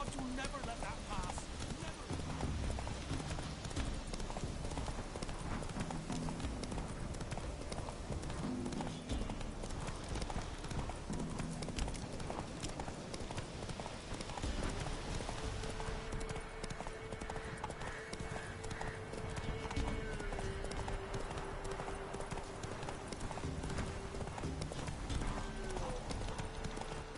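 Roach the horse galloping in The Witcher 3, hooves clip-clopping in a steady fast rhythm for the whole stretch, under someone talking and game ambience.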